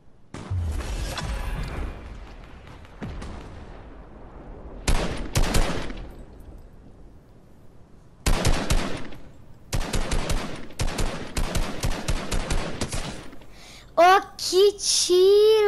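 Video game gunfire crackles in loud bursts of rapid automatic shots and single pops, separated by short pauses, with a few sharper ringing effects near the end.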